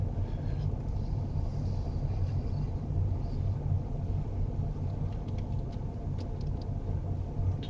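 Car interior rumble while pulling slowly into and back out of a driving test centre car park, a steady low engine drone with faint road texture and no distinct events.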